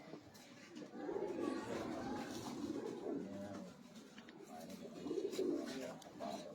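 A mated pair of pigeons coos in low, rolling bursts, one phrase swelling and fading after another at close range, with faint background voices.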